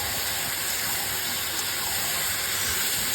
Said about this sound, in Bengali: পেঁয়াজটা লাল হয়ে গেছে, মাংসটা দিয়ে দিচ্ছি।